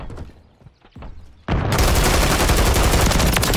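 Heavy sustained automatic gunfire erupts in a night-map multiplayer shooter game, a dense rapid volley that starts abruptly after a quieter stretch of faint distant shots and continues loud and unbroken to the end.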